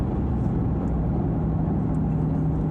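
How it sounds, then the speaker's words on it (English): A Maserati Quattroporte engine hums in a steady, loud drone with a constant low tone, heard from inside the car with no voices and no clear rise in pitch. "you can get on it and rev it out and it's not going to force you to shift until it hits the red line"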